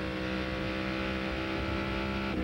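USAC Silver Crown race cars running single file at Gateway in 1998, engines blending into one loud, sustained high-pitched roar that holds steady and swells slightly near the end, no talk.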